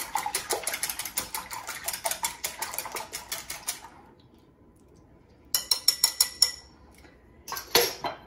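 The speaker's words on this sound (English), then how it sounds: "And then we're going to whisk it or stir it." Sugar mixture being briskly stirred or whisked in a bowl, a rapid run of clinking utensil strikes against the sides that pauses for over a second, then resumes in shorter bursts, close and without talk.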